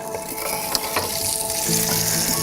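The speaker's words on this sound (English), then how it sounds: "I can hear the shishito popping already. They're sizzling in there." Steady, crackling sizzle of shishito peppers frying in a hot pan, continuous and close, with small pops scattered throughout and no voices.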